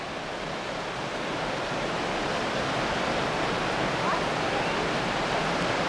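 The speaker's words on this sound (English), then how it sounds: "waterfall off in the distance." Distant waterfall in Bryce Canyon National Park: a steady, even wash of rushing water filling the whole clip, with no breaks and no voices.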